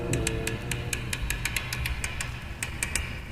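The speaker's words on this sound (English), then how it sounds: "the clicking noises you hear are the tumblers of a lock magnified many times by intricate amplification equipment" Rapid, irregular mechanical clicks tick over a low steady hum, each click crisp and close, like amplified tumblers turning inside a lock.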